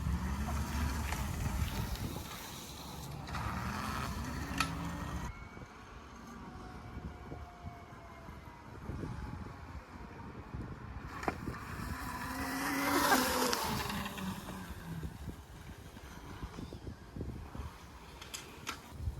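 A TUTTIO electric dirt bike ridden in sport mode, its motor whine rising and falling over steady wind and road rumble, swelling loudest near the end with a few knocks from the terrain.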